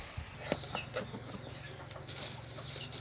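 Farmyard chickens, including a white hen and a rooster, cluck and call softly near a home, with a low steady hum beneath and faint rustling.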